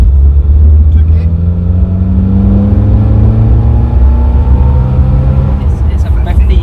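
A 50-year-old Triumph car engine drones loudly and climbs steadily in pitch as it accelerates, heard from close by with a constant roar throughout.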